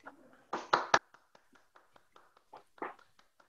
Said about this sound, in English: I'm just clapping on behalf of a really, really fantastic talk